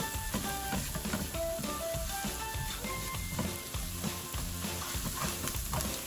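Masala frying in a pan for stuffed pakoras, a steady quiet sizzle with intermittent scraping and stirring taps, close by and unbroken with no talk.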